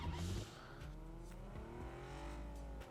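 Car engine in PUBG revving and droning steadily as it drives over rough, uneven terrain, loud and close, with varying whine and some rumbling bumps.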